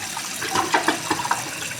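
A toilet with a newly replaced flush valve and flapper rushes and gurgles with running water as it flushes and refills, a brief, moderately quiet watery wash.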